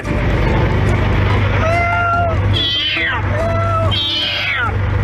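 An orange cat, just rescued from high in a tall tamarind tree, lets out several loud, drawn-out meows in a row, close by over a steady low engine hum and background noise.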